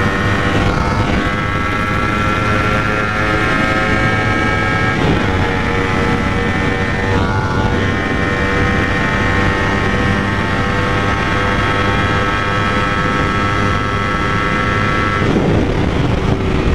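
A Kawasaki Ninja 250R motorcycle engine drones loudly and continuously while riding, its harmonic whine holding steady with brief shifts in pitch, accompanied by wind and road roar throughout.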